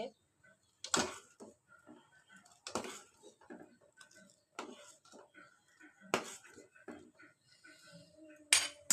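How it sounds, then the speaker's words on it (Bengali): Spoon clinking against a pot while stirring spiced tea with ginger, sharp scattered metallic taps and scrapes at irregular intervals, close and fairly quiet with gaps between strikes. "এটাকে এখন তো এইভাবে নেড়ে যেতে হবে যত নাড়বে তত মশলাগুলো মিশবে"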